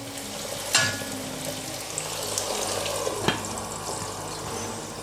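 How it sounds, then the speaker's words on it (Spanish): Pork ribs with green pepper frying in a covered pan, a steady soft sizzle and watery hiss running throughout with a couple of brief clinks, no talking. "Que se vaya friendo a su ritmo."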